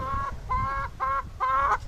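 Hens kept at a home in Kerala cluck in four short bursts, each a tonal, slightly nasal call separated by brief pauses, close and clear with no talking.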